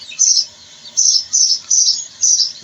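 Shrill, high chirps from young Fayoumi chicks come in five short bursts, close and loud, with quiet gaps between.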